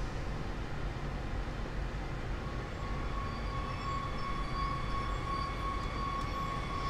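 A BR 442 Talent 2 electric multiple unit pulls away in the Train Sim World game on a Leipzig rapid transit route, giving a steady loud rumble under a rising electric motor whine with no pause.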